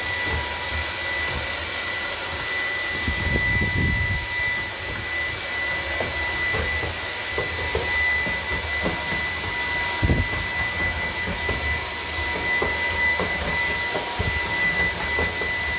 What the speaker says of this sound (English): we're going to have the Dreame T10 set on its max power mode, and we'll see if it can pick up the sand off the tile.